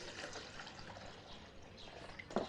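Water poured into a cooking pot on a home stove while eggplant is prepared, a steady broadband splashing stream lasting throughout, fairly close, ending with a brief louder clatter.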